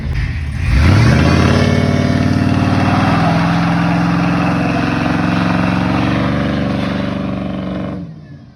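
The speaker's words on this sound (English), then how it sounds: "That's a little one-wheel peel" A pickup truck or car doing a one-wheel-peel tire burnout, loud steady engine roar held at high revs with rising pitch at the start, sustained for several seconds before tapering off.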